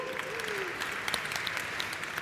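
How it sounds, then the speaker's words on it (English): A tech conference audience claps for the sponsors and organizers, a full, steady round of applause from a packed room with a few scattered whoops and sharp claps standing out. "let's give a round of applause for our sponsors and especially the organizers"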